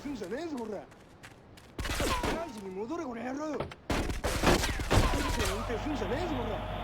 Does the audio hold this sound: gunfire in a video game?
yes